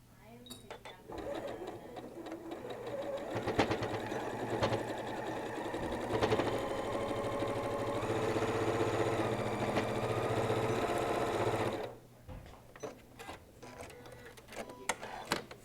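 A sewing machine runs in a steady mechanical whir with rhythmic stitching clatter for about ten seconds, then stops; a person talks quietly at times.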